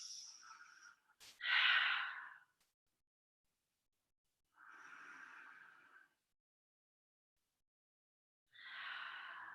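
Slow, deep breaths during a yoga child's pose, each long airy inhale or exhale close and soft, separated by stretches of silence.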